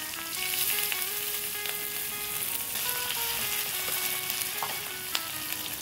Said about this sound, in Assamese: মাছ ফ্ৰাই কৰি থাকি যোৱা তেলতে মই পিঁয়াজ দিছোঁ